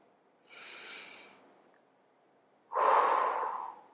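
Two audible breaths during a seated yin yoga spine pose, a softer airy exhale followed by a louder, fuller breath a couple of seconds later, close and quiet with no talking.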